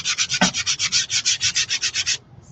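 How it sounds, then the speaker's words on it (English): Edges of a chalk stencil being hand-sanded: about sixteen even, rapid rubbing strokes in a steady rhythm, close and fairly loud, then a brief pause and a faint final scrape. "sand the edges a little bit."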